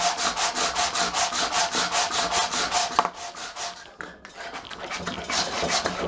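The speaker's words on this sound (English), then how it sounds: "So you get your block brush, which you can buy from any sundryman, made of metal, and then you just go to town on it and you scrub it." A metal block brush scrubs a wooden butcher's block in quick, rhythmic back-and-forth strokes that make a loud, close, raspy rubbing sound, with a brief pause midway before the scrubbing picks up again.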